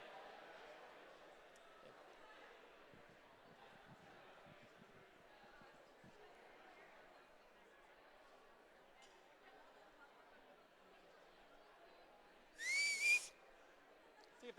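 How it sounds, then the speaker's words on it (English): Quiet room chatter and murmuring, then a single sharp, loud whistle with a rising pitch cuts through near the end. "I know how to whistle. See, it works every time."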